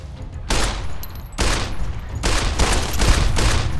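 Gunfire in Fallout: New Vegas comes as three loud, close bursts of rapid shots, each lasting under a second, separated by short gaps and played over a low background rumble.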